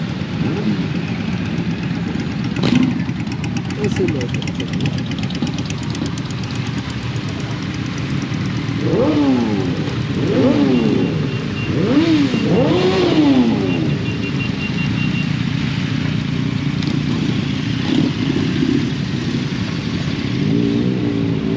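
A group of motorcycles arrives at a roadside stop during a rideout, engines rumbling steadily with several rising revs in the middle as bikes pull in nearby, loud and continuous.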